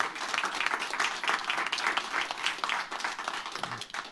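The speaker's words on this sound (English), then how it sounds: "Give her a round of applause." Audience at a comedy festival casting panel breaks into dense, sustained applause, a steady wash of many hands clapping for about four seconds with no talk over it.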